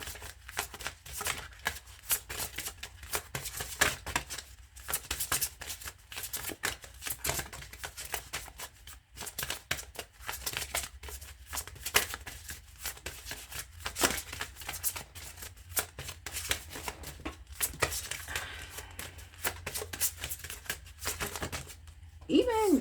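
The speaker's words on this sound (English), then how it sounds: "Let me shuffle this this deck adequately." A deck of tarot cards is shuffled over and over in a long stretch of quick, crisp riffling and flicking, close and fairly constant.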